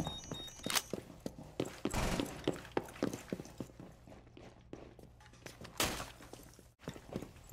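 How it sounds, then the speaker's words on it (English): A weapon magazine swapped out in Rainbow Six Siege: a string of sharp mechanical clicks and hollow thunks, some close and crisp, spaced irregularly over a quiet background. "Loading new mag."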